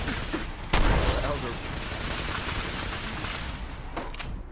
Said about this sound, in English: Need some cover fire here.